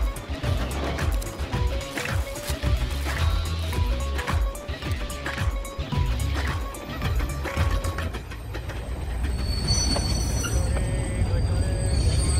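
Train pulling into Jhunjhunu railway station, loud and close, with a rhythmic clatter of wheels over rail joints, heavy rumble and metallic squeals, under busy crowd noise and voices on the platform.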